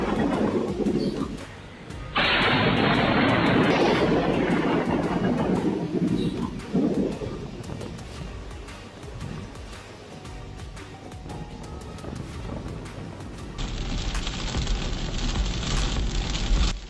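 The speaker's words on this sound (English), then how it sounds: "Lightning slammed into a cluster of trees and shook the ground, leaving people speechless in the rain." Thunder from lightning striking a cluster of trees rumbles through steady rain, a sudden loud broadband crack and roar that slowly fades into hissing downpour, with a fresh surge of rain noise toward the end.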